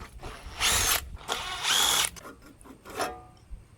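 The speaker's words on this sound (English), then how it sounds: "We'll try it again with the drill." A power drill spins out 5/16 bolts from a lawn mower in three short, loud bursts of whirring, with brief pauses between them and faint clicks after.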